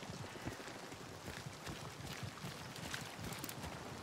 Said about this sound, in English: this is not the heavy rain yet